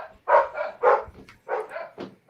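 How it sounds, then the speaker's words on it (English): A dog barks in short bursts, four or five yips spaced across the clip, fairly close and moderately loud with no talk over it. "I hear a doggy."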